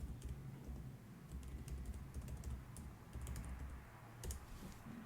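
Password being typed on a MacBook keyboard, a quick run of crisp key clicks with brief pauses, close and moderately loud against a low room hum, no talking.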